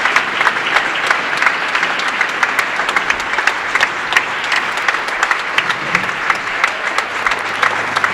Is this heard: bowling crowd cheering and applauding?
yes